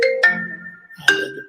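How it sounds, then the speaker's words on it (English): A short phone ringtone of two bright chime-like tones, the second after a brief gap, each ringing on with a sustained tail; loud and close, with no talking. "phone came through there"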